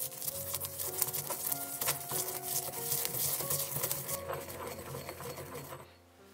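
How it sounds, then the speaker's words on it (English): Toasted Sichuan peppercorns are crushed in a mortar, giving a busy, continuous gritty grinding texture with quick rhythmic strokes that eases off in the final second. "Put it in a mortar. Crush it."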